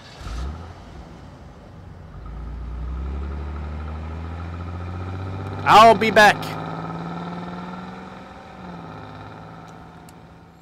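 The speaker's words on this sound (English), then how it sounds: "Listen to that engine" Car engine in the Blacksad: Under The Skin video game, idling and then revving up and settling back down, moderately loud, with a short spoken line and a brief burst of sound in the middle.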